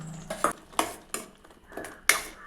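Yellow pumpkin, tomato and onion being sautéed in a pan for a sambar, with a spoon scraping and clinking against the metal in a few sharp, close strokes separated by short pauses.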